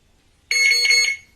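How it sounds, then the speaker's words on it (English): A motorbike's anti-theft alarm gives a single short, loud electronic beep as it is armed, sharp and clear against an otherwise quiet background. "all right, I just set the alarm."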